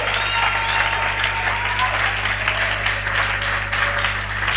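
A church congregation applauds steadily for Jesus, dense clapping and crowd noise filling the space continuously and loudly, with voices mixed in beneath.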